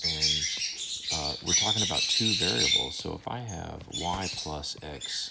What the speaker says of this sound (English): excuse my birds.